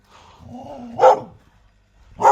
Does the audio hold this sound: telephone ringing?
no